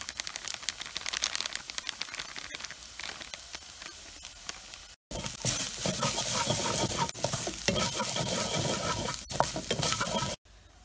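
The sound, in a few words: chicken masala stirred and fried in pan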